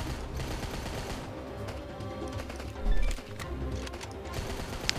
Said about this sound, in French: Ouh, sympa, mitraillette.